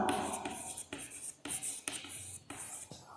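A reduction formula is written out by hand, with close, scratchy strokes in a steady rhythm of short bursts and brief pauses.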